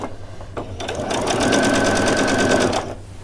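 A sewing machine stitches a row of tacking stitches on fabric for a frilled top, running in one loud, steady whirring burst of about two seconds. Quieter handling noises come before and after.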